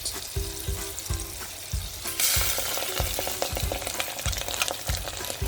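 Tomato paste sizzles in melted butter in a pan, a loud, steady frying hiss broken by regular scraping knocks of a utensil stirring against the pan, close up with no talk.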